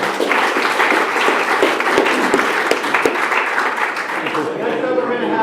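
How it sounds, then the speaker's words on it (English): A round of applause from the audience at a disaster preparedness meeting: a loud, close burst of many hands clapping that holds steady, then thins out and fades at the end as a voice comes in. "Let's give them a round of applause."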